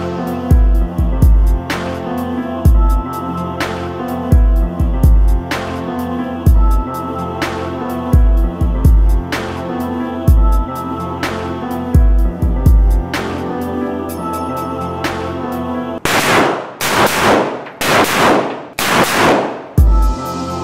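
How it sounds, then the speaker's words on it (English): Gunshots ring out at a shooting range, a long series of sharp, loud cracks spaced irregularly over a ringing background, ending with several louder, broader blasts in quick succession. "we just finished shooting those guns. Woo! It was loud"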